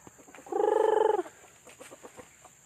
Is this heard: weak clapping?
no